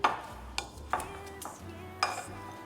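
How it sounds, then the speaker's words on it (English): Potatoes being mixed with seasoning in a bowl give a few sharp clinks and scrapes of a utensil against the dish, spaced irregularly and close, with soft rustling between. "Now that my potatoes are well mixed"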